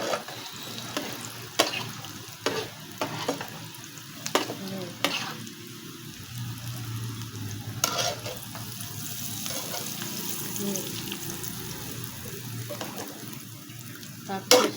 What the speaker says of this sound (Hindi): इसलिए इनको फ्राई करने में इतना टाइम नहीं लगता